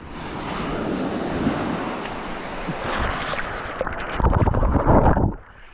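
Sea waves wash in at Porthor beach, a sandy cove, with a loud rushing surge building over several seconds and crashing near the camera amid gusty wind buffeting, then cutting off abruptly.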